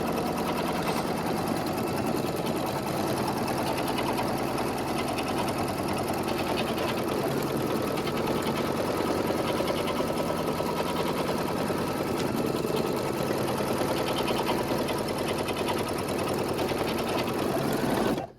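An embroidery sewing machine stitches quilting on pumpkin patch coasters, with a steady, fast, unbroken mechanical hum and needle chatter heard alone and close up.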